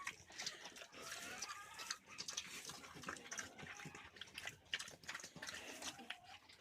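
Pigs on a farm grunting and snuffling close by while water is poured and splashes for them to drink, a busy, continuous mix of animal noises and running water with no speech.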